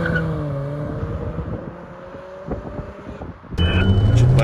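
Chery Arrizo 8 1.6T and Mitsubishi Lancer 10 2.4 launching side by side with wheelspin, engines revving and climbing through gears, then a louder surge of engine noise near the end, heard from inside a car with people talking.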